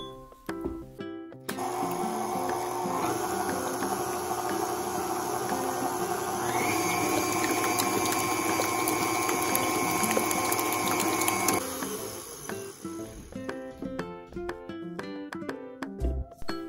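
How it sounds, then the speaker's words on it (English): An electric mixer beats pumpkin cookie dough on medium speed, a steady whirring drone with a rising tonal whine partway through, running for about ten seconds before cutting out, followed by quieter clinks and handling noises. "Mix on medium speed for 1 to 2 minutes."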